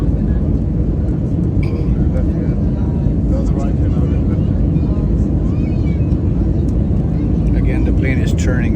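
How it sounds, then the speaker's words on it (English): Inside an airplane flying between mountains on a flight from Gilgit to Skardu, a loud, constant cabin engine roar fills the space as the plane banks into a sharp turn, with faint voices underneath. "the plane is turning very, very sharp turn to the left"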